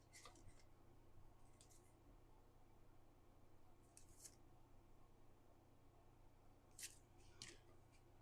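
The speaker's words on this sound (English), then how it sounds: "Let me shuffle these up." Tarot cards are shuffled in short, quiet, crisp rustling bursts spaced a second or two apart over a low hum in a quiet room, with a louder rustle at the very end.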